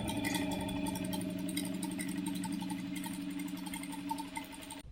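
A sewing machine stitches trouser fabric with a steady, fast mechanical hum and faint rhythmic clatter that runs evenly throughout and eases off at the end, with no talking.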